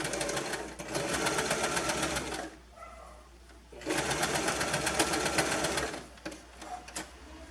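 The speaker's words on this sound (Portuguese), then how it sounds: "Dobra 1 centímetro pra dentro. Assim. E passa a costura aqui." A sewing machine stitches a folded fabric hem on a skirt in two loud, steady runs of rapid whirring, with a brief pause between them and a short burst at the end.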